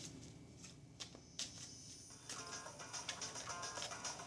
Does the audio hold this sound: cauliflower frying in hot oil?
no